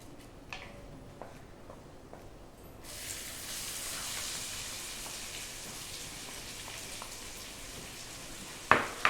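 Onions frying in hot oil with cardamom and cumin: after a few faint clinks, a steady soft sizzle kicks in and holds, with a sharper crackle near the end.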